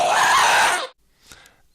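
Minecraft ghast sound sample played back alone: a loud, harsh wailing screech lasting under a second, followed by a fainter, shorter echoing cry.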